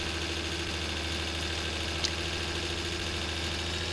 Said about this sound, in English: let's put in third gear because it's revving a lot